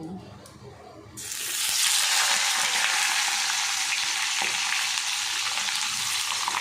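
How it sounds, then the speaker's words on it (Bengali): After a brief quiet moment, pointed gourd and potatoes hit hot oil and a loud, steady frying sizzle takes over and continues to the end. "প্রথমে পটল আলুগুলো ভালো করে ভাজা করে নেব।"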